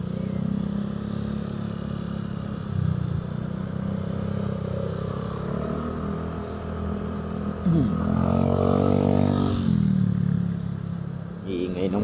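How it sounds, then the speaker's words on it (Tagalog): A motorcycle engine drones steadily during a night ride, with revs rising and falling and a louder, nearer engine surge passing partway through, while someone talks over it. "Iingay ng motor niya."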